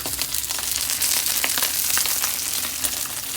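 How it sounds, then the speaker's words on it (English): Salmon skin frying skin-side down in a hot pan gives a steady, close crackling sizzle with scattered sharp pops, continuous for the whole stretch and with no voices over it. "The salmon skin going into the pan."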